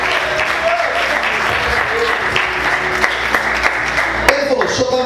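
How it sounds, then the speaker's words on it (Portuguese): Church congregation clapping during an evangelical sermon, loud continuous applause with a few sharper claps standing out, steady throughout the short stretch. "Aplauda Jesus, aleluia"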